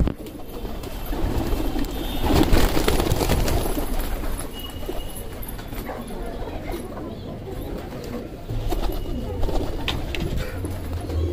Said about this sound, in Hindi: दोस्तों ये कबूतर है